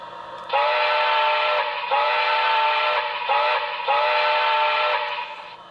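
A Broadway Limited Paragon 4 brass model of ATSF #3460 Blue Goose steam locomotive sounds its grade crossing whistle: two long blasts, a short one and a long one, with a steady hiss underneath, loud and close.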